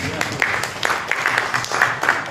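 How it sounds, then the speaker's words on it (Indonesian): Applause during a breakfast meeting, moderately loud clapping with scattered sharper claps and some voices mixed in underneath. "tepuk tangan untuk Pak Bambang"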